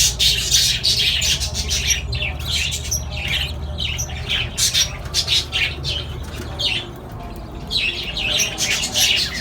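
Parrots at a breeding farm in Jeddah, Saudi Arabia keep up a loud flurry of harsh squawks and chirps, repeated calls overlapping close by over a low background hum.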